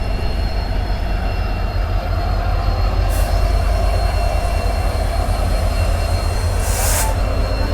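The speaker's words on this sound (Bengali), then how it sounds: "দেখুন ওই সাইডে কোনো ট্রেন আসবে, সবাই যে দাঁড়িয়ে আছে। একটা ট্রেন তো এসছে।" A train pulls up at a station platform, its loud continuous rumble and rolling wheel noise filling the whole stretch, with two brief high squeals of the wheels or brakes partway through and near the end.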